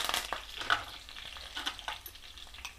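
Two sprigs of curry leaves hit hot oil and sizzle and crackle in a pan, with sharp spitting pops at first that settle into a softer frying hiss, close and without voices.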